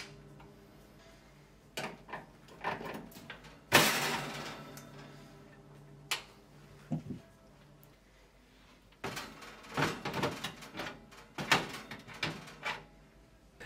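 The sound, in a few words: oven door lifted off its hinges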